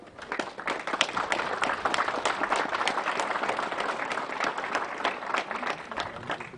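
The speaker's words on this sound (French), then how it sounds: "Nous pouvons applaudir nos militaires." An outdoor crowd at a commemorative monument inauguration in Louvigny claps for soldiers, with distinct individual claps rising sharply out of a steady, fairly close round of applause.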